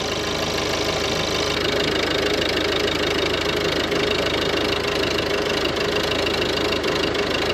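Skoda diesel engine with piezo injectors and a faulty injector idling close up, a steady loud mechanical clatter with engine knock and occasional stumbles as it misfires, no talking.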